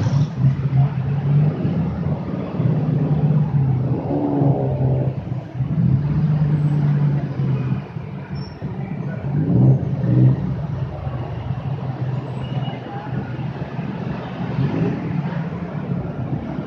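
Motorcycles pull away together from a Bangkok intersection during rush hour, a broad rumbling swell of engines rising and falling over steady traffic noise, heard from inside a minicab.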